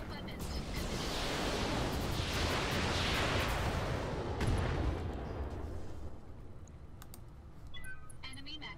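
Weapons fire in the mech combat game Roguetech, a dense, booming barrage of cannon and autocannon blasts that rolls on for several seconds, then thins out into scattered impacts.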